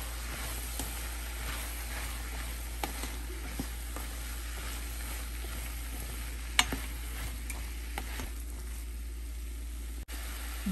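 Chopped bottle gourd stirred in a hot pan for a simple dal sambar, giving a steady, close sizzle with intermittent scraping and clinks of the spoon, no talking.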